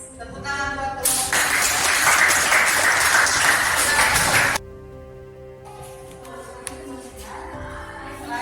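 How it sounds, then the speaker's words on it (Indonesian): A classroom group receives a burst of applause, loud dense clapping lasting a few seconds before cutting off abruptly, followed by quieter room sounds with scattered clicks. "Tepuk tangan buat kelompok."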